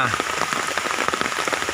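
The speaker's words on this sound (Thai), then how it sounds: "วันนี้ถึงแม้ยังฝนตกอยู่" Steady rain falls and patters on surfaces nearby, a dense, continuous spatter of drops with no talking over it.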